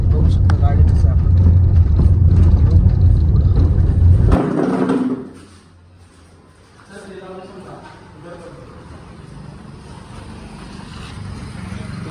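A car's engine and road rumble run loud and steady, then drop off sharply to a quieter low hum as the car sets off on a trip, with people talking throughout.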